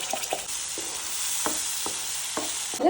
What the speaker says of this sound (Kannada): ಇದನ್ನೇ ಒಂದು 2 ನಿಮಿಷ ಈ ಎಣ್ಣೆಗನ್ನ ಸ್ವಲ್ಪ ಹುರ್ಕೋತೀನಿ ಲೈಟಾಗಿ